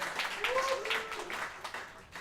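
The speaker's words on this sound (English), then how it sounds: "Give him a big round of applause, please." Guests at a party applauding a speaker, a fairly quiet spread of clapping mixed with voices and a whistle-like tone, fading slightly toward the end.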